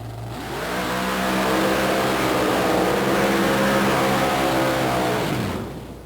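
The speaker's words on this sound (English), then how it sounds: "He's running a 351 cubic inch Ford engine." A 1923 Ford Model T mud racer powered by a 351 cubic inch Ford engine roars through a mud-racing run, its loud, steady engine note sweeping up in pitch and then dropping off as the run ends.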